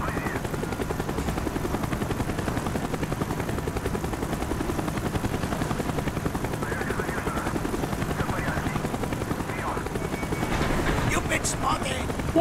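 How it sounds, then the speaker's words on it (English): A helicopter in the Call of Duty Black Ops campaign gives a loud, continuous rotor thump with a steady beating rhythm, mixed with bursts of gunfire and occasional voices, holding at close range throughout. "Avoid the helicopter spike."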